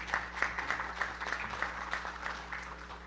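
Audience at a university event clapping for the rector, a steady, faint patter of many hands heard from some distance in a hall, with no talk over it.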